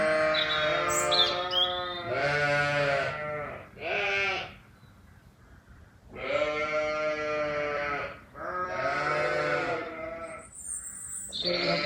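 Sheep bleat repeatedly and clearly at close range during an outdoor session, several drawn-out calls separated by short pauses, with no talking over them.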